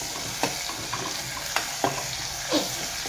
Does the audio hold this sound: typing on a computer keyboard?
no